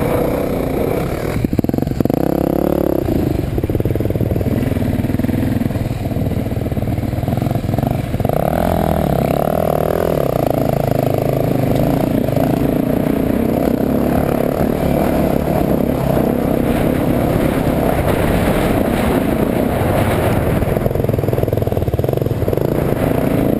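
An old Husqvarna motorcycle being ridden, its engine a continuous droning rumble with clatter and wind noise throughout, steady and close without pauses.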